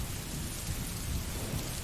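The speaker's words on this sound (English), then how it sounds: "replaced by the steady roar of rain" Steady, dense rain pours over a low rumbling of thunder, a continuous wash of noise with no pauses, moderately quiet and without any voices.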